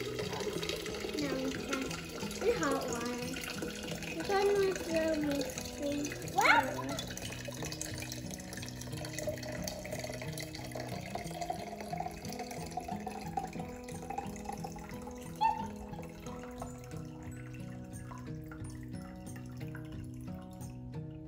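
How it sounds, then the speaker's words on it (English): Water poured into a container for a kids' Orbeez science experiment with Alka-Seltzer, a continuous low splashing and trickling stream heard close and fairly quiet throughout, with a brief louder slosh partway through. "We got to pour the water."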